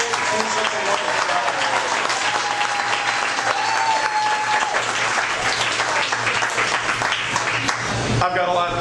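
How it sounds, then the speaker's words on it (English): Loud, sustained applause from a large crowd at a political campaign kickoff, dense clapping filling the space throughout before tapering off at the end. "Please give him a big hand of applause."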